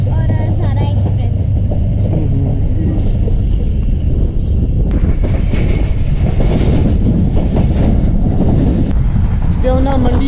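The 8DN Tezgam passenger train runs between Rawalpindi and Lahore, filling the clip with a loud, continuous rumble and rattle of wheels on rails. Muffled voices sound faintly under the noise.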